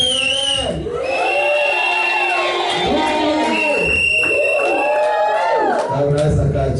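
A church congregation cheers and shouts for Jesus, a loud continuous wash of crowd voices, whoops and yells filling the room throughout.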